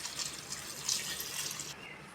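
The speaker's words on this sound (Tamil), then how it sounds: "அப்படியே டபுளாக 7 டம்ளர் தண்ணி ஆட் பண்ணிக்கிறேன்." Water pours into a pot of rice for paneer biryani, about seven tumblers' worth, making a steady, soft splashing hiss with no voices.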